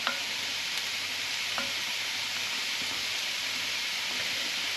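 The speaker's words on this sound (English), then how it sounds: "the cabbage is warming through in that butter" Cabbage warming through in butter in a pan sizzles in a steady, even hiss with faint occasional ticks and pops, close up and with no voices.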